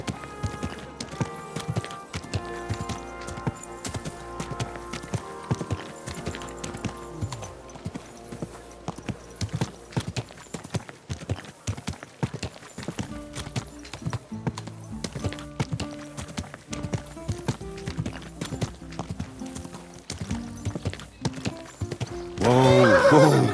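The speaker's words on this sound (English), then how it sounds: "Easy, good horse." Horse hooves clip-clop steadily and a horse neighs loudly near the end in the Kingdom Come: Deliverance II video game, with rhythmic hoofbeats running throughout, close and prominent, and some speech mixed in.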